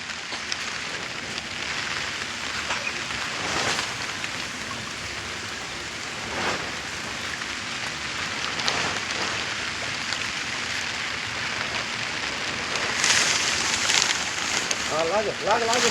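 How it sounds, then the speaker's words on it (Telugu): Steady rain patters across the whole clip, a dense wash of drops with occasional louder gusts and distant voices underneath. "వర్షం పడతా ఉంది"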